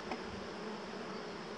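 Honeybees swarm densely around a hive frame during an inspection, a steady, even drone of buzzing that fills the whole moment, close and continuous.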